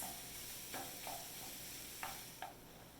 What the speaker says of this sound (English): we're going to break this pork up into small pieces